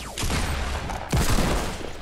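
Dense gunfire in Fortnite Battle Royale, a loud continuous barrage with a sharp heavier report about midway, no talking.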